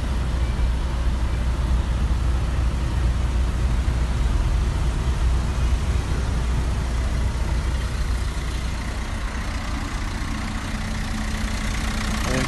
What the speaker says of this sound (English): The car has been running since the start of the video, so as you can hopefully hear, there's no knocks, bangs or rattle